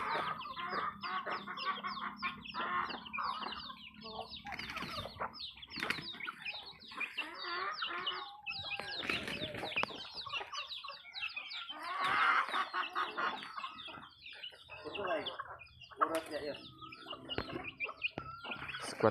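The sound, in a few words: chickens clucking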